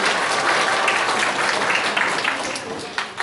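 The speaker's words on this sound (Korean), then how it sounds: "큰 박수 부탁드립니다" Applause at a regional jobs forum for a student about to speak, a loud, dense burst of crowd clapping that carries on steadily and tapers slightly near the end.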